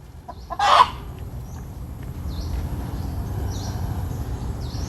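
A hen laying eggs in a coop gives a brief, fairly close burst of clucking early on, followed by faint bird calls over a steady low rural background hum.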